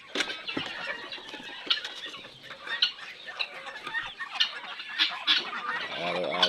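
Farm chickens in a rural province yard cluck and squawk continuously at close range while waiting to be fed, a busy overlapping chorus of calls with no talking.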